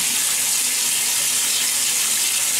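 Tap water runs steadily into a sink for face washing, a loud, continuous hissing splash that holds unchanged throughout with no voices.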